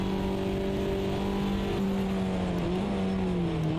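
A MINI Cooper JCW engine drones and revs in the Automobilista 2 racing game, a steady loud buzzing tone with slight pitch dips as the throttle shifts, with no voices.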